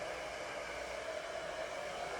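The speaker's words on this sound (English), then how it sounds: "to use the blow dryer to make that part stay where you wanted it to stay" A blow dryer drying a wig gives a constant, even whooshing hum, moderately close and unbroken, with no voices.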